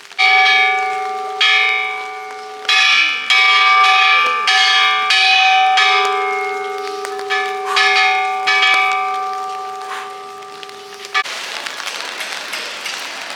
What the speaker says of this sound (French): au nom de la paix, ce jeune homme va aller faire retentir la cloche de la liberté